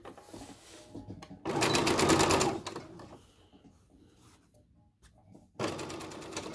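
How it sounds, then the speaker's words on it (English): A sewing machine runs a plain seam through fabric placed wrong sides together at a 2.5 stitch length, in two loud close bursts of steady whirring separated by a quieter pause with no talk. "I've got the wrong sides facing and I'm going to sew a plain seam"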